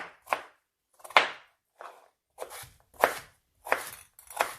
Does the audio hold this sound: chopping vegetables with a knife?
yes